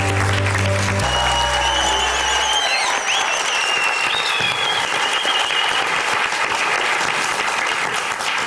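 Studio audience applauding a singer after her stage performance; loud, dense, sustained clapping and crowd noise filling the whole stretch, with a fading musical chord at the start.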